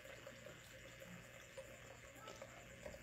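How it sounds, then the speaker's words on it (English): Wine pours steadily through an aerator, a faint, continuous gurgling trickle with small bubbling accents throughout, close by and without any talking. "it's just the wine pouring"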